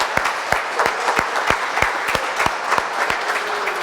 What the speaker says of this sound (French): Ah, on s'applaudit, oui.